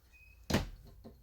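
A cabinet door on the kitchen wall of a 2024 Starcraft 26BH bunkhouse RV bangs shut once, close and fairly loud, followed by a fainter second knock.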